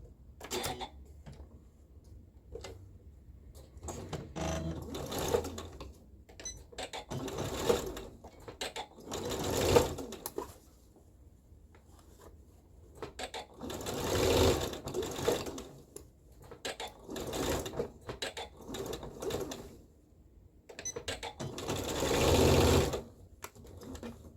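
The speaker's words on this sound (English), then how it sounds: "I pinned the dot in the sleeve, and I'm going to sew it now" A sewing machine stitching a sleeve runs in several bursts of rapid mechanical whirring, separated by short pauses and quieter handling, heard close with no talking.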